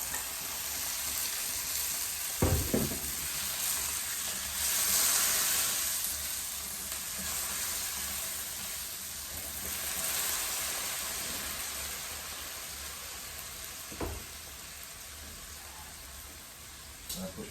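Tomatoes frying in a hot pan give a steady close sizzle with a few sharp clatters of stirring, continuing unbroken with no voices.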